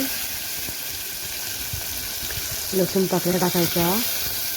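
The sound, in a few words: garlic cloves sizzling in tempering for dal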